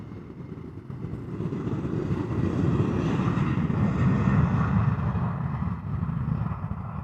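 Airliner departing runway 36L at Amsterdam Schiphol in showery weather, a steady broad engine roar that swells and holds, heard from a distance with no voices.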